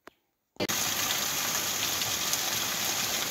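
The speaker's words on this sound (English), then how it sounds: "it's really raining" After a short click and a moment of silence, heavy rain sets in as a dense, steady hiss of falling water that continues evenly without any talk.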